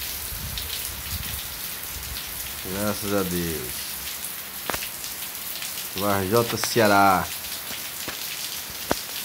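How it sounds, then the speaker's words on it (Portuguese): Heavy rain pours down across the whole stretch in Varjota, Ceará, Brazil, a dense hiss of drops on surfaces, with someone speaking briefly twice over it. "Começou a cair água."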